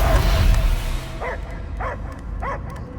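A dog in the Guardians of the Galaxy video game gives three short, evenly spaced barks over a loud rumbling game soundscape.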